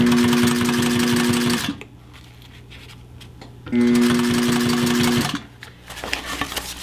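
A sewing machine stitches fabric for a DIY tactical chest rig in two loud bursts of about two seconds each, with quieter pauses between them and a short restart at the end.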